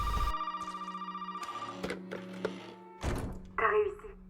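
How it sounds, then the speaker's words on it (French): Telephone rings in the horror video game Resident Evil VII: a pulsing electronic ring at the start, then thuds and other game noises, with a voice speaking afterward. "Le téléphone qui sonne."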